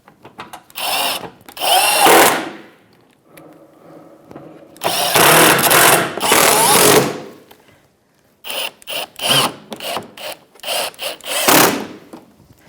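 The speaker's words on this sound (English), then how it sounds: "I'm going to put the 4 bolts in the front here where it's connected to that splash shield, and they're regular 6mm bolts, 10mm socket." Power driver running 6 mm bolts with a 10 mm socket into the front splash shield of a 2013-2018 Toyota RAV4, several loud close bursts of whirring, separated by short pauses, with no talk.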